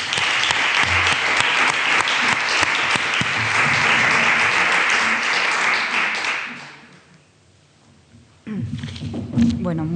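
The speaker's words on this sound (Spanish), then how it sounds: "te damos un aplauso" Sustained audience applause fills a talk venue, dense and loud for about seven seconds before fading out, then a voice begins speaking near the microphone.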